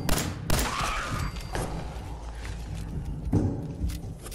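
Hip-fired guns in the Fallout 4 video game, with sharp shots at about 0.5 s and 1.5 s and a cluster near 3.3 s over steady game noise and creaking mechanisms.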